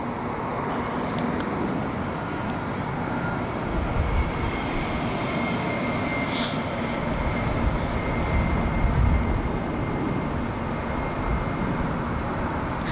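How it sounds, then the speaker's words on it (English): Heavy airliners departing Heathrow Airport, a loud continuous roar of jet engines that holds steady and builds slightly, with no talk over it. "So a nice couple of heavy departures we've got to look forward to."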